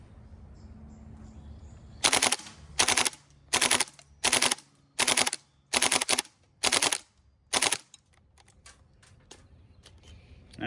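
Gas blowback FAMAS airsoft rifle firing eight sharp bursts in a steady rhythm, each a loud clattering rattle of rapid shots, followed by a few fainter clicks of the mechanism.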